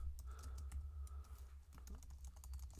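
Rapid, soft clicking of keys on a computer keyboard while writing Java code, an irregular close-up patter of keystrokes heard alone over a low background hum.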